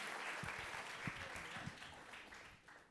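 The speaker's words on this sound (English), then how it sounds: "Round of applause." Audience applause at a live stream with a band, a spread of quick claps and cheering that fades toward the end, fairly faint with some voices mixed in.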